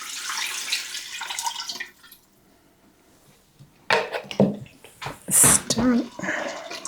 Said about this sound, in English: I'm going to be adding in chicken broth